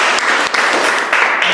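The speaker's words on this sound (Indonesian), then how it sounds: "Tepuk tangan" A classroom of university students breaks into applause, a loud, close, continuous burst of many hands clapping with a few brief dips, with no talk over it.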